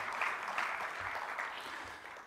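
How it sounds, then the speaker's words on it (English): An audience claps steadily to welcome Lord Karan Billimoria at a formal session, a brief, fairly faint patter of many hands at an even level. "Let's have a big round of applause for Lord Karan Billimoria."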